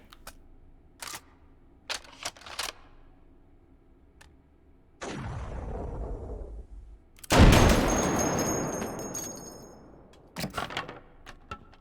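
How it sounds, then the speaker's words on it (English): Explosions in the VR shooter H3VR: after a few sharp clicks, a loud booming blast rolls off, then a second, heavier explosion roars and slowly decays, followed by scattered crackling shots. "It actually seems to do alright with the secondary explosion."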